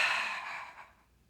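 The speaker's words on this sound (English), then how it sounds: "So breathing in," A single audible breath drawn in during a Pilates corkscrew exercise, breathy and airy, starting fairly close and loud and then fading over about a second, with no talking.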